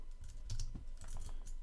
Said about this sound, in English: very cold, so my typing is terrible at the moment